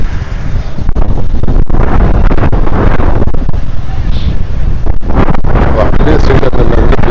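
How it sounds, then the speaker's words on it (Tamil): Strong wind buffets the microphone at a beach in Da Nang, a loud continuous roar with gusty rumbling across the whole stretch and bursts of surf or traffic noise mixed in. "குற்றாலத்தை விட காற்று அதிகமாக இருக்கும்."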